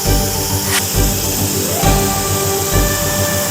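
Spray primer hisses steadily from a can onto the lower control arms and rear suspension parts of an Integra as they dry on a rack, a loud close broadband spray with brief pauses in between.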